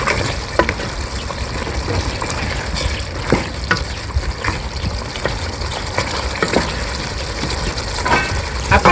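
Meat simmering in a pot for Liberian chuck rice, a dense, steady bubbling hiss that stays close and fairly loud throughout, with faint knocks here and there.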